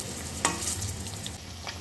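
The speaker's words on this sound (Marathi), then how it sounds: "दोन्ही बाजूनी व्यवस्थित पनीर तळून घ्यायचे" Paneer pieces frying in hot oil in a pan, giving a soft, steady sizzle with a few brief crackles, quiet and close with no talking.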